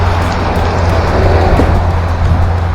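A DF02 Gravel Hound radio-controlled car runs at quarter throttle on a wet driveway, giving a steady, continuous motor whine with gravelly rumble, loud and close throughout with no talking.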